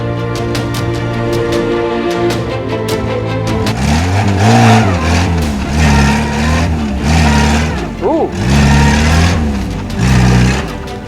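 A Ford Fiesta that has sat for 17 years moving under its own power, its engine droning and revving in rising and falling surges, loud and close throughout with no speech.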